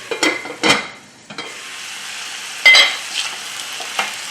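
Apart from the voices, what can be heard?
zucchini frying in pan and being stirred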